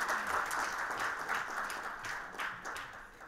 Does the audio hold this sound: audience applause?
yes